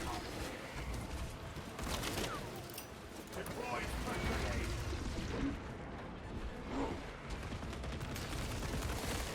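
Rapid hip-fire gunfire in a video game crackles in dense, sustained bursts over a busy battle din, fairly loud and continuous throughout.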